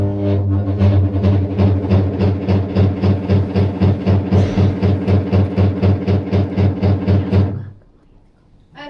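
An induction motor demonstration model runs with a rhythmic, pulsing hum much like a washing machine in operation, steady repeated throbs close by for several seconds before it stops abruptly and falls near silent.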